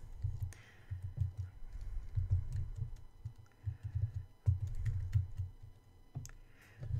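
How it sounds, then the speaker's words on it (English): Keystrokes on a computer keyboard as a website name is typed, irregular clusters of close, soft clicks with brief pauses, no voices. "And so here, I'll type in my friend's name."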